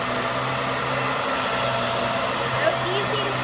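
A Hoover Air Lift Deluxe upright vacuum cleaner runs with a steady, loud motor whine and airflow hum, close by and continuous, with no talking over it.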